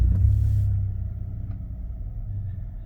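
Nissan Frontier pickup engine fired up, opening with a loud low rumble that settles within a second into a steady, quieter idle, heard close by with no talking.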